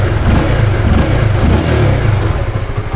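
A Honda Supra GTR 2021 motorcycle engine revs close and loud with a rough, throbbing rasp, blipped throttle pulses running continuously over three seconds.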